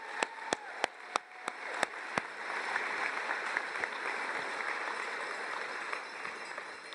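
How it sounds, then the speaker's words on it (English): Commencement ceremony audience applauding, a few sharp separate claps at the start giving way to a steady, fairly quiet wash of clapping from a large crowd. "Now we get the round of applause."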